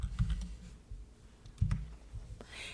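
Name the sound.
typing a font name on a computer keyboard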